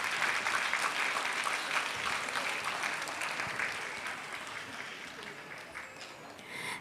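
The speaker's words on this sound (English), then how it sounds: "Can we have a big round of applause from audience?" An audience at a school annual day dance fest gives a sustained round of applause, dense clapping that holds steady, then slowly thins and softens over several seconds.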